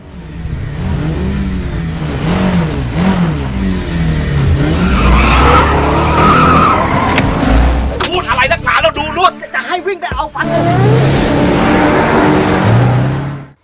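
Engines scream and rev hard in a short 41-meter motorcycle drag race, with rising and falling revs, screeching tires and a sharp burst near the end before fading out.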